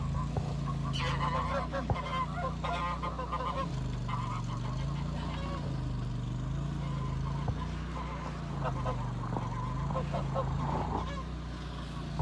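Geese honking inside a goose pen on a homestead, a dense continuous chorus of nasal calls close by, with occasional louder honks rising over the flock.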